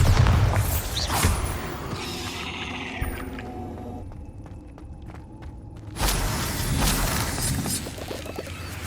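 Spell explosions from the Hogwarts Legacy video game, with a heavy blast and shattering crash at the start, a quieter stretch of debris rattling, then a second loud burst around six seconds that rumbles on.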